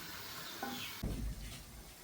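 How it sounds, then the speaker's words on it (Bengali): Mixed vegetables stirred and frying in a kadai: a steady sizzle and hiss runs throughout, with a louder scrape and stir about halfway through, close and without talk. "তো সবগুলো সবজি আমি কড়াইয়ের মধ্যে দিয়ে দিলাম এখন নাড়াচাড়া করছি"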